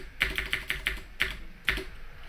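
Fast typing on an Atari 8-bit computer keyboard, close and crisp, with a quick run of evenly spaced key clicks followed by a few slower, separate keystrokes.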